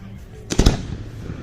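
A firework bursts at a show in Kansas: one sharp, loud crackling double bang amid quiet background.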